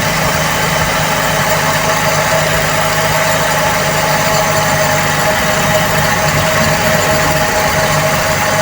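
A Toyota 2E carbureted engine idling at a raised speed of about 1,500 to 1,600 RPM, a loud steady hum held close and unchanging throughout.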